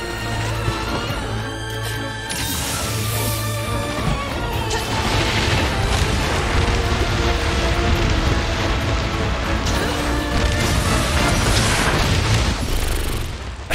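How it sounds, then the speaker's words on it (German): Explosions in the video game Monster Hunter Rise, fought against a high-rank Apex Diablos, produce a dense, sustained roar of booming blasts and crashing debris over about fourteen seconds, loud throughout. "wie man selbst von der Explosion noch was abkriegt da auf dem Boden"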